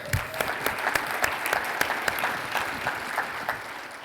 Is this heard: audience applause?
yes